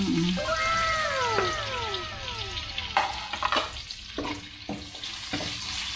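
Garlic and onion sizzle and fry in a pan for palabok sauce, a steady crackle broken by a few sharp clanks of a utensil stirring against the pan.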